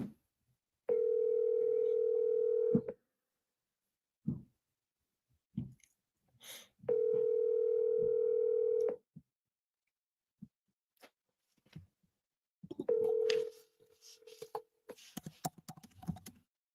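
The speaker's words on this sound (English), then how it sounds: "Let's call Ashley." A phone call rings out as a steady ringback tone in two long, even bursts separated by quiet, with faint tapping between them and a third shorter tone cut off by clicks and handling noise, close and clear.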